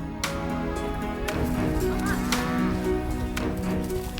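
Several White-backed cows moo close by as a herd heads out to pasture, long low calls overlapping one another amid rustling and general farmyard noise.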